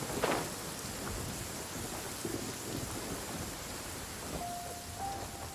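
Heavy downpour in the Genshin Impact video game, a dense continuous rushing hiss of rain with low rumbling thunder underneath, a sharper crack near the start and a faint tonal chime toward the end.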